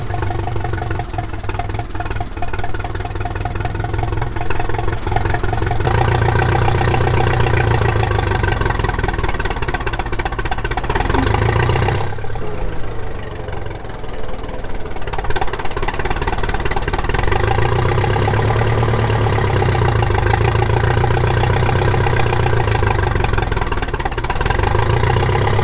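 A vintage Massey Ferguson tractor engine runs steadily under load in second gear with a deep, rhythmic chug and mechanical clatter, no talking throughout.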